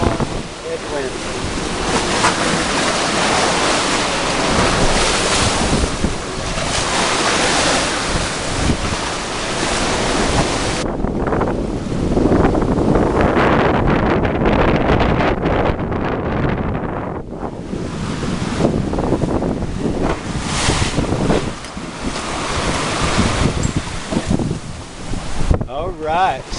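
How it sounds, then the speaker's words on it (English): A sailboat beats into a strong headwind, with loud, constant wind roaring across the microphone and waves crashing and hissing against the hull throughout, the rush swelling and easing in gusts. "this is what it's like beating into a strong headwind."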